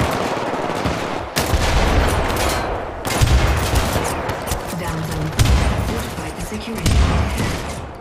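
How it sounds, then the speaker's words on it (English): Grenade launcher shots in the Syndicate video game during a co-op mission, several loud booming blasts fired at intervals over a steady dense background of gunfire. "Oh, I have a grenade launcher."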